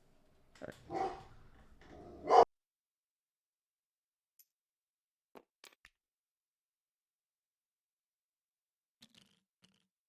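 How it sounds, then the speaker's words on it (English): Pet dogs bark in a short, loud burst of two or three rough barks close by, followed by near silence with a few faint ticks and clicks. "My dogs are going nuts."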